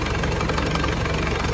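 A homemade mini dump truck, built from an Elf dropside, idles with its engine running steadily: a dense, continuous rumble with a faint knocking texture, close up and with no talking.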